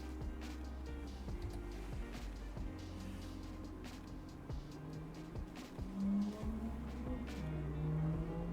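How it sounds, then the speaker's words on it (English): A low, steady engine rumble drones throughout, rough and continuous, swelling slightly louder toward the end. "There's that car with the noisy engine again."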